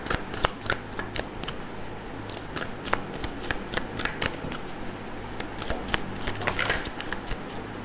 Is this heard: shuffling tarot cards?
yes